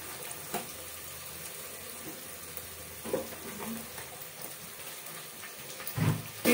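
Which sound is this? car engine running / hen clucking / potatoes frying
potatoes frying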